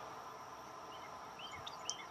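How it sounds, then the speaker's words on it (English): A steady, faint insect drone with a few high, thin chirps near the end, quiet and outdoors with no voices. "The crickets."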